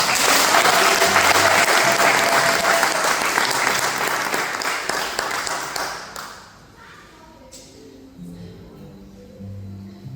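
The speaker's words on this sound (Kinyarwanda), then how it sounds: "ariko Yesu Kristo katugukomera amashyi." A church congregation applauds in praise of Jesus Christ, a dense, loud burst of clapping that fades out after about six seconds, followed by quieter room noise and a preacher's voice.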